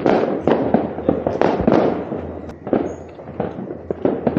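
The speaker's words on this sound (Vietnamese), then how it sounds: "pháo hoa ấy." Fireworks bursting outdoors during Tet celebrations in a rural Vietnamese hometown, a rapid series of crackling pops and booms at varying loudness, continuous throughout.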